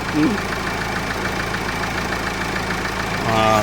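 An idling car engine runs steadily close by, a low, even rumble with a faint knocking pulse, swelling slightly louder at the very end.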